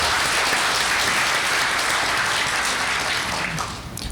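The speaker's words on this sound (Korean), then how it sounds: "박수 좀 부탁드리겠습니다" Sustained applause from the audience fills a Korean energy forum hall, a dense, steady clatter of many hands that fades slightly near the end.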